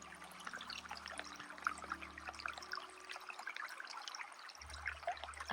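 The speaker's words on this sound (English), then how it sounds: "the water is just popping out of the ground there." Spring water trickling and bubbling out of the ground beside Clear Lake, a soft close dribble with scattered small splashes, steady throughout against a low background hum.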